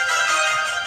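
A phone rings with an incoming call, its steady electronic ringtone filling the whole short moment at a constant level, with no voices over it.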